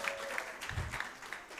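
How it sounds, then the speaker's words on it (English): Scattered audience applause at an AYuTe Africa Challenge event in Uganda, faint and somewhat distant, with soft claps running through the moment. "Let's give her a big round of applause"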